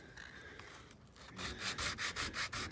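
Wet-and-dry sandpaper in 400 and 320 grit rubs over old, gummy paint on a car body. A quiet scrape comes first, then a run of repeated abrasive strokes that grow louder and rhythmic, close up, with no talk.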